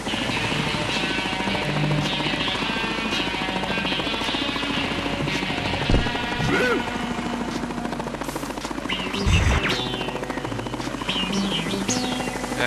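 Helicopter in the Ty the Tasmanian Tiger 2: Bush Rescue video game, a loud, constant rotor drone and engine buzz filling the whole stretch, with scattered game effects and chirps layered on top.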